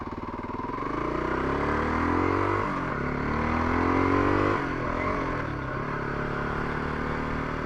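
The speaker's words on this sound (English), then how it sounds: "let's see if she kickstarts again" A Kawasaki KLR 250 motorcycle engine runs steadily up close, a loud continuous drone whose pitch rises as it revs and then falls back toward idle.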